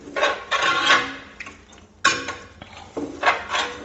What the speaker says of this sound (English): Get it stirred up real good.